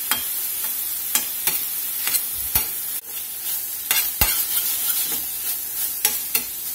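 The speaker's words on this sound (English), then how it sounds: "We're just going to let this brown up here a little bit." Ground meat browning in a pan for Cajun stuffed bell peppers, a steady close sizzle broken by repeated scraping stirs of a utensil against the pan.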